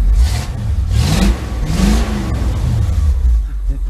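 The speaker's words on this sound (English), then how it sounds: "And it actually doesn't sound bad. It has Magnaflow mufflers on it." A custom Ford Bronco engine with Magnaflow mufflers runs close by, revving up and settling in a steady, rumbling drone with a few rising swells across the whole stretch.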